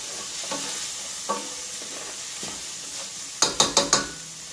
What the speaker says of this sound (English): So we just add in those eggs, swirl it around.